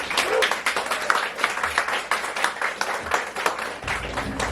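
An audience at the Rialto Theatre poetry event applauds poet Steve Brightman as he takes the stage, a sustained wash of many hands clapping at moderate volume, continuous throughout.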